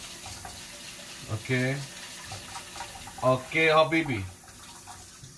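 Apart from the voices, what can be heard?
rinsing rice in warm water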